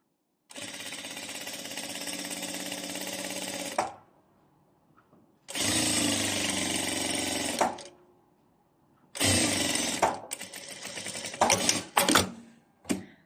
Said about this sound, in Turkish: Çünkü şifon atma yapmaması için bakın şöyle biraz paylı dikiyorum